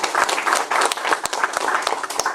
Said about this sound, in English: Please give a big round of applause to Commissioner Jo Ellen Litz.